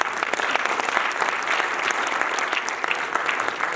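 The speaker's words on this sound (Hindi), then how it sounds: "एक बार जोरदार तालियां इनके लिए" Enthusiastic audience applause at a large office meeting, dense and continuous clapping filling the room at a steady loud level from start to finish.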